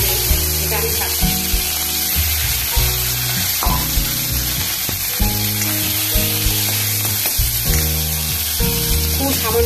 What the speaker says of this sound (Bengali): এবার আমি যে রুই মাছ দুটো নুন হলুদ দিয়ে মেখে রেখেছিলাম সেটা আমি ছাড়ছি।